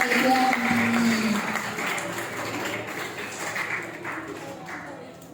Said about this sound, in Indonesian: Kita tepuk tangan buat Siva yang sudah memberikan ini.